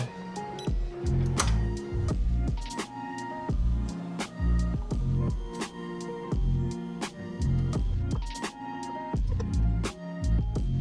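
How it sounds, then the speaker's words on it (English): A vinyl cutter slices goalie-mask stickers, its carriage motors whirring in short pitched bursts and shifting tones, with irregular ticks and clicks as the blade head moves back and forth; no talking. "While the cutter is cutting"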